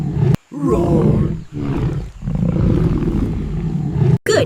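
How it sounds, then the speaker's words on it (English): A lion roars loudly and up close in several long, growling bursts separated by brief pauses, filling almost the whole stretch with rough, sustained power. "The lion's roar is loud and strong."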